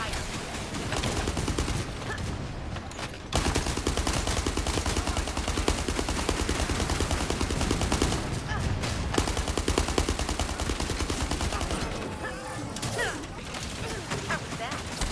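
Sustained bursts of automatic gunfire from The First Descendant fill the scene, loud and dense, with a brief pause early on before the rapid fire resumes, and faint game voices mixed beneath.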